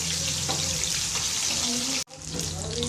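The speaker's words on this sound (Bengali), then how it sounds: "মাংসটা হয়ে গেছে ভাজা।" Meat sizzles hard in hot oil, a loud, continuous close-up hiss that cuts out briefly near the end and then resumes. No one speaks over it.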